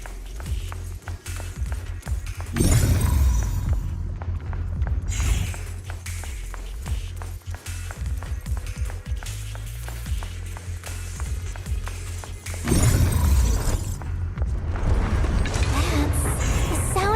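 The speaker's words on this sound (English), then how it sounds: "That's the sound of machinery." Factory machinery in Zenless Zone Zero starting up, with a loud rumbling, clanking mechanical churn and repeated thumps that surge twice, close and continuous throughout.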